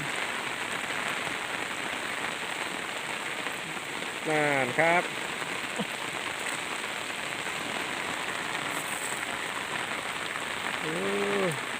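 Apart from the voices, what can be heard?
rain falling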